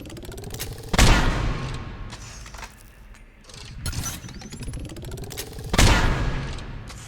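Charged, scoped shots from the Kishock gun in Mass Effect 3, two loud sharp blasts several seconds apart, each with a mechanical charge-up and ratcheting reload sounds between them.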